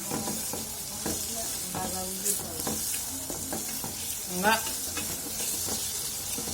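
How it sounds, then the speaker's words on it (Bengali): Onion, green chilli and tomato fry in hot oil with a constant bright sizzle, while a utensil stirs and scrapes the pan in irregular clinks and knocks. "বালা তেলেতে পেঁয়াজ কাঁচামরিচ টমেটো হ্যাঁ ভাজি করি"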